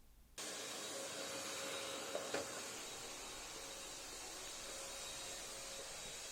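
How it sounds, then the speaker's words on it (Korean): A vacuum cleaner switches on and runs in a room, a steady, even whooshing drone that holds at constant volume with a small bump partway through, with no talking. "청소기를 돌려서 포장 과정 중 혹시 모를 이물질이나 먼지가 묻지 않도록 합니다."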